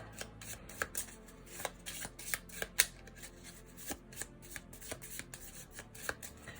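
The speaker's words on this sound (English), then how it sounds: "And these are gonna get shuffled into the encounter deck here." Playing cards shuffled into an encounter deck during a Marvel Champions tabletop card game, a series of quick papery riffles and taps in an irregular rhythm, close and fairly quiet with no talking.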